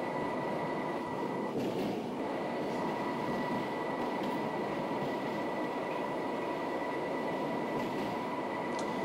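District Line train in the OpenBVE train simulator runs steadily with a dense, even rumble and a faint high whine, constant throughout with no voices.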